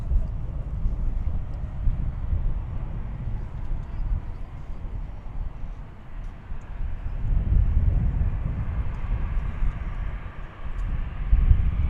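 An airplane at DFW Airport gives a steady low engine rumble with a slight swell near the end, mostly under talk and radio chatter from plane spotters.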